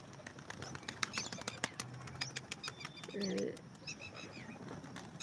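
Pigeons' wings clatter in quick flapping bursts, with a short low coo midway and light chirps from other birds around.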